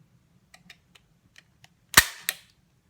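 A CZ P-09 pistol's trigger is pulled in double action on a trigger gauge, with faint small clicks leading to a sharp snap and a second click shortly after.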